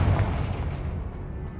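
A Confringo explosion spell cast in the video game Hogwarts Legacy: a loud, sustained booming rumble heavy in the low end that rolls on without a break, with no talk over it.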